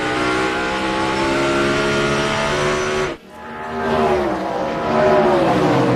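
NASCAR race car pushed hard in the 2006 Zippo 200 road-course race, engine screaming loudly at high revs, dropping briefly on a downshift and then climbing back up, with tire noise underneath.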